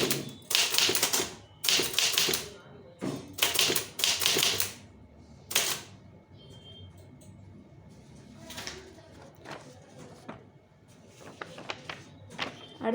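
A typewriter taps out a Tamil letter in bursts of quick keystrokes broken by pauses and carriage movements, close and clear, with no speech.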